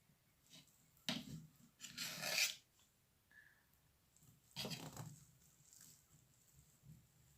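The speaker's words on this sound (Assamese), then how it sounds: "এতিয়া কেকটো কাটিব লাগে দেই।" A knife cuts a homemade cake into pieces, giving a few soft scraping and rubbing strokes in short bursts, faint and close in an otherwise quiet room.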